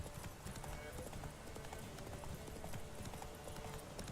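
Hooves of the horse Roach galloping in the video game The Witcher 3, a dense, rapid clip-clop rhythm that runs continuously and fairly loud throughout.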